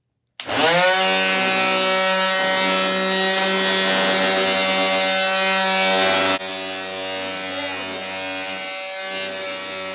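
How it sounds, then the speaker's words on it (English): An electric power sander sanding reclaimed wood starts up and runs steadily with a loud, high-pitched whirring hum that drops slightly in pitch partway through. "So right now we're sanding it."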